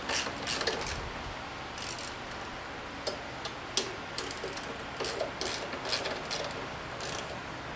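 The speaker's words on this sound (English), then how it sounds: "So we're going to get this carburetor off. It's just held on with these two 3/8 headed bolts." Two 3/8-inch headed bolts being unbolted to remove the carburetor from a YardMan lawn mower, giving quiet intermittent metallic ratchet ticks and small tool clicks at close range, with no talking.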